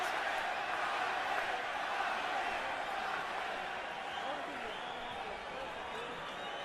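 A large boxing arena crowd at the third Pacquiao vs Marquez fight keeps up a steady, loud roar of rival chanting for Pacquiao and Marquez, sustained and distant-sounding, with a commentator's voice talking over it.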